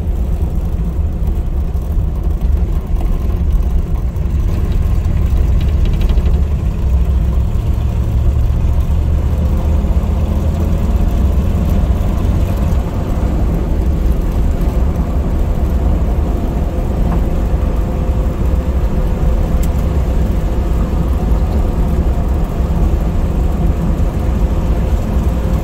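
An old car with cracked tires and a worn steering system drives around the block, its engine a steady low rumble that stays loud and close throughout, without talk.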